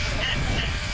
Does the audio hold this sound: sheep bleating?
yes